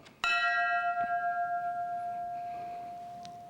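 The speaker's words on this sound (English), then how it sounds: "each alarm was sounded by a bell" A single fire alarm bell is struck once, loud and close, then rings on with a long, slowly fading resonant hum and no other sound.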